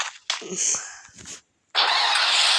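A motorcycle engine in the game Free Fire starts with a short sputtering burst that stops briefly, then breaks into a loud, steady rev. A person talks over the start.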